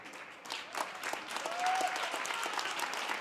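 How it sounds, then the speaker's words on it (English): Fans applaud steadily at a high school adapted softball game as a runner reaches first base, the crowd clapping at moderate distance with a faint whistle-like tone briefly over it and no talking. "Fans cheering him on"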